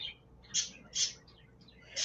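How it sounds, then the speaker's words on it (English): Birds chirp outside in three or four short, bright bursts of tweeting, faint and somewhat distant over a quiet background. "Hey, the birds are happy too."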